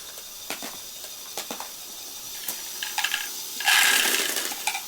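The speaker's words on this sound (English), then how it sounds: "this is a series of rotating axle lift used to lift balls around the large rack gears" A Lego Great Ball Contraption module with a series of rotating axle lifts carries balls up around large rack gears, giving soft scattered plastic clicks and rattles, then a denser hissing clatter near the end, with no talking.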